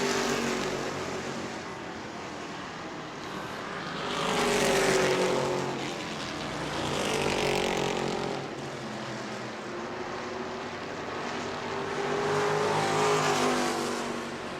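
Race cars at a New Smyrna World Series event roar around the corner, engines swelling in repeated loud waves as they pass and fade, a continuous rumble with no talk.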